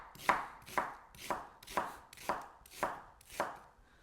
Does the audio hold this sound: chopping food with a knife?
yes